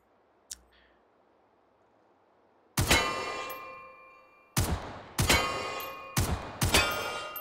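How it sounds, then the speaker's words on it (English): A rifle with a 30-round magazine fires at long-range targets in the VR shooting game Hot Dogs, Horseshoes & Hand Grenades. A faint click comes first, then five sharp, loud single shots at irregular intervals, each with a short ringing tail, and no one speaks. "Let's shoot a long range one here."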